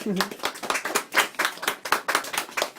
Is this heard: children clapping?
yes